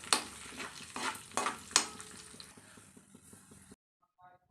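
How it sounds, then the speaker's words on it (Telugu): Cashews and almonds fry in ghee in a kadai, with a few sharp scraping stirs early on over a constant soft sizzle that stops abruptly near the end. "ఇంకా కాజు బాదం అయితే వేసి మంచిగా అయితే ఫ్రై చేసుకుంటున్నాను"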